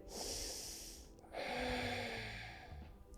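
A deep, slow breath during seated office yoga, heard close and clear: one long airy draw, a short pause, then a second sustained breath, with no talking.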